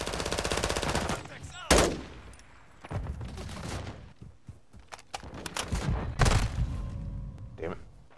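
Rapid automatic gunfire bursts and single shots from a Call of Duty: Modern Warfare II multiplayer match, loud and near, coming in several clusters with brief lulls, a player's voice talking over parts of it.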